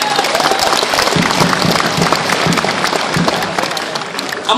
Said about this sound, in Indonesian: Kita beri aplaus yang berhasil datang ke Korea